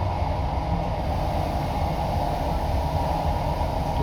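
Steady rumble and hum fill the inside of a moving passenger train, a continuous low drone with faint rattling and no talking.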